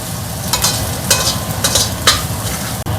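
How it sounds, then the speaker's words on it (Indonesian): Eggs scramble in a hot frying pan: a close, loud sizzle with a spatula scraping and stirring in quick irregular strokes, and no one speaking. "Nah telurnya diorak-arik aja."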